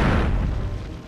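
A video game explosion in The Legend of Spyro: The Eternal Night, in a swamp setting, a single loud deep boom with a heavy low rumble that decays over about a second.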